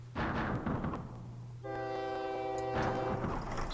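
Trains in the OpenTTD railway simulation game run past a junction with a rumbling rail bed, and a sustained tonal horn or whistle sounds in the middle, moderately loud and continuous.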